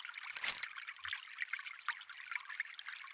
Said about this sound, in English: Water falling. Nothing as dramatic as a large waterfall.